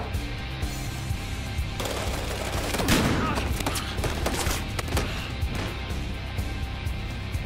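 Gunfire breaks out in a hotel lobby in the video game Battlefield Hardline, with rapid bursts of shots and sharp cracks over a busy, noisy game background.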